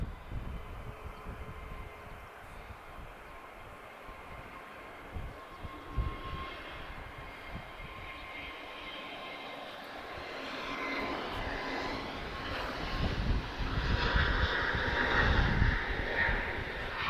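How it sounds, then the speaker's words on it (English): A TAP Air Portugal Airbus A321neo jet at Lisbon Airport rumbles at a distance, its engine roar faint at first and swelling gradually louder toward the end. "So, Tango Papa 572, tap Air Portugal. She's flying to Frankfurt. This is an A321neo."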